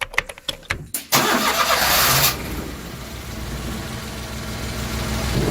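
A mini truck engine with a stuck choke and freshly adjusted valves cranks in several quick turns, then catches and roars loudly. It settles into a steady, slightly rough idle close by.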